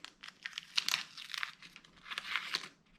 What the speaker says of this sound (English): This 3M trim tape.